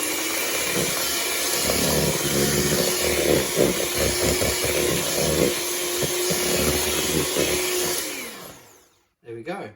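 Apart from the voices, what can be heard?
electric mixer mixing Victoria sandwich cake batter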